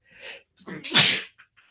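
A person sneezes during a podcast recording, a short breathy intake followed by one sharp, loud, close sneeze with a brief trailing exhale.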